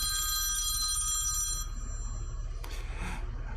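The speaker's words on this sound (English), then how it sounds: "That's a phone call that you kind of can't ignore." An old-style telephone bell rings with a bright, metallic trill for about a second and a half, followed by a brief softer jingle over a steady low hum.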